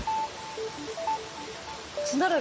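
A phone rings with a repeating pattern of short electronic tones at an even pitch, and a voice speaks over the last part of the ring.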